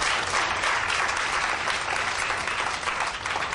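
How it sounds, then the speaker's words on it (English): Many audience members at a chamber of commerce event clap for a trainer of sea cadets, a loud, continuous roar of applause that holds steady and close throughout. "Please, a big round of applause."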